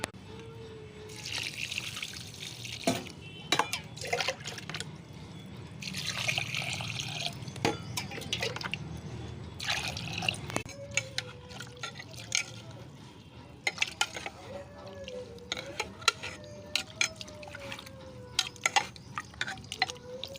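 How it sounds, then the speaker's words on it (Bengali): Water poured over cooked rice to make panta bhat, with close trickling, splashing and stirring sounds, intermittent clinks and a faint background voice at times. "জল দিয়ে রেখে দিলাম এটাকে পান্তা ভাত করে নিলাম"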